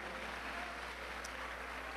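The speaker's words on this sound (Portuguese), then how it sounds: "dando a Jesus uma linda salva de palmas" Sustained applause from a church congregation in Brazil, a broad, even wash of clapping that holds steady the whole time, with a low constant hum beneath and no talking over it.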